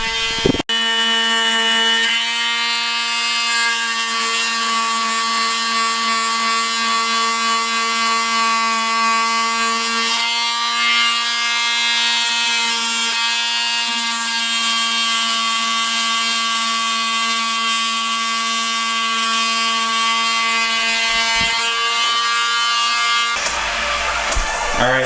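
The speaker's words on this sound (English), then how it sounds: "We already are almost done with one side of sanding it down" A power sander works steadily over a car body, prepping the panels before body filler, giving a continuous high whine with stacked tones that holds loud and even for most of the time, then cuts off near the end.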